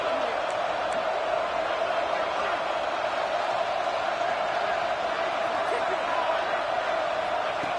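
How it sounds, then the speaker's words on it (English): A football stadium crowd roars continuously at a Purdue versus James Madison game on fourth down, a dense, steady wall of distant cheering with a broadcaster's voice talking over it. "The crowd is roaring, trying to help this defense on fourth down."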